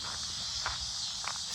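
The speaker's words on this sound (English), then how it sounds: "Wow, those cicadas are loud" Loud, steady high-pitched cicada drone fills the outdoor air, a dense continuous buzz with faint rustling underneath and no talk.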